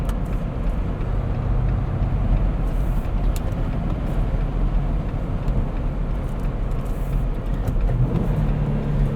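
Steady low road rumble and engine drone inside a 2018 Jeep Wrangler JL Sport 4x4 with manual transmission, cruising on pavement, continuous and fairly loud with no talking.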